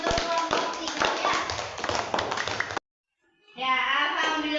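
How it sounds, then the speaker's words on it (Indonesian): Children in a classroom clap briskly for group 3 for nearly three seconds, then a short silence before a voice comes in. "Yuk, berikan aplaus tepuk tangannya untuk kelompok 3 ya"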